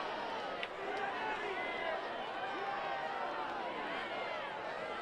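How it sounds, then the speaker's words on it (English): A stadium crowd at Wallace Wade Stadium murmurs and roars steadily during a college football officials' review between Kansas and Duke, a dense, sustained wash of voices. "Crowd reacting here at Wallace Wade as the officials talked this thing over"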